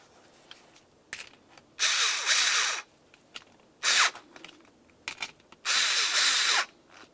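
A power driver snugs up switch mounting screws in the seat trim panel of a 2000-2006 Chevrolet Tahoe, with three loud whirring bursts of about a second each between small clicks and plastic handling sounds, heard up close.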